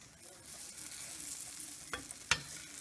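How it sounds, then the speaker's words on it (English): Butter melting in a skillet preheated on medium-high for garlic butter toast, giving a soft, steady sizzle with a couple of sharp crackles or scrapes near the end. "add about 2 tablespoons of butter to your skillet"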